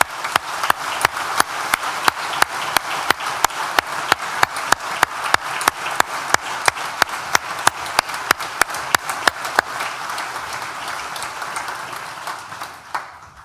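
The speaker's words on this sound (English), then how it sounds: "please join me once again for a big collective round of applause" Graduates and guests at a university graduation ceremony clap together, sharp regular beats in unison that settle into looser applause and fade near the end.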